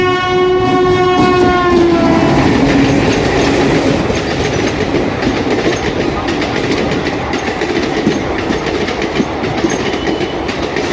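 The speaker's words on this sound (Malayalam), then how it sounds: "അപ്പോൾ ഇപ്പോൾ വരാൻ പോകുന്ന ട്രെയിൻ മാംഗ്ലൂരാണ്." A train pulls into a station in coastal Karnataka on a Mangalore-bound service, opening with a loud sustained horn blast. The horn gives way to a heavy rolling rumble and rhythmic clatter of wagons passing close by.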